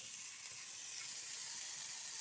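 Butter sizzling in a hot pan, a soft, steady hissing fry that stays faint and even throughout.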